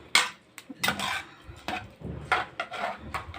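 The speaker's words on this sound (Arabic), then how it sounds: "نقلب بس عشان كله ياخد في بعضه كده، البصل مع المية مع التوابل" A spoon scrapes and knocks around a pot of red rice cooking with onion, water, spices, bay leaf and a cinnamon stick, in several distinct stirring strokes with short pauses between them, close and fairly quiet.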